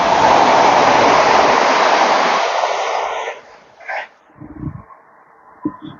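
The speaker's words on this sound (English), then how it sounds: "Oh, train!" Loud broadband rush of a train passing through Swaythling station, close by for about three seconds before cutting off sharply, leaving quieter scattered knocks and faint background noise.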